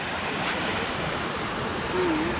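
Ocean waves wash and break steadily along the Tasmanian coast, a continuous broad roar of surf heard close by with light wind noise.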